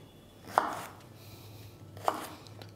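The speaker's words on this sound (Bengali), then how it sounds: "পটলটাও ঠিক এরকম বড় বড় করেই কাটবো।" A knife cuts pointed gourd into large pieces on a board, two crisp single chops about a second and a half apart over quiet kitchen background.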